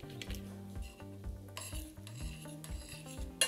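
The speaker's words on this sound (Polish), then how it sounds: "Dolejemy troszkę mleka kokosowego." Coconut milk goes into millet cooking in a pot, with rhythmic scraping strokes of a spoon against the pan and a soft bubbling sizzle underneath, close and continuous without speech.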